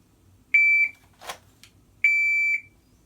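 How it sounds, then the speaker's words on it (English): A shot timer for a low-ready draw drill gives two clear, sharp, sustained electronic beeps about a second and a half apart, with a brief scuffing noise between them in a quiet room. "we're waiting for the beep to try to react to the beep"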